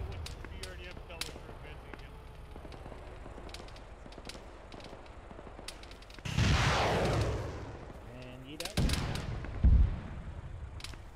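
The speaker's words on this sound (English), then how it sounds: "There was just an explosion behind us" A heavy explosion booms suddenly in a military video game, followed by a rumbling roar and further thuds, amid scattered gunfire and distant battle noise.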